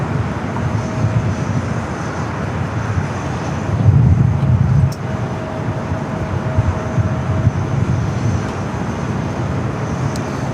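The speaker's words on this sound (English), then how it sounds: "we got the Emirates A380 Super heading up for a north side at takeoff" An Emirates Airbus A380 takes off at Los Angeles airport, its engines a steady, loud, broad roar that swells slightly midway and holds without voices.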